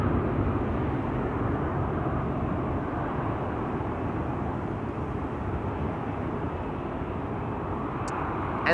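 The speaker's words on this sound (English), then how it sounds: "Singapore Airlines, their A350 getting away from us via the wrong runway." A Singapore Airlines Airbus A350 departs Amsterdam Schiphol, its jet engines a steady, broad roar at moderate distance that holds evenly throughout with no talking.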